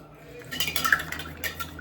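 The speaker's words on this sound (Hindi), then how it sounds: "अभी मैं इसको मिक्स कर रही हूँ चम्मच से" A spoon stirs a Rooh Afza milkshake in a glass, making a run of quick, close metallic clinks and scrapes that build and fade over a couple of seconds.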